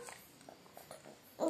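A dog gives faint, short yips and whimpers in quick succession, quiet and somewhat distant, ending with a louder burst.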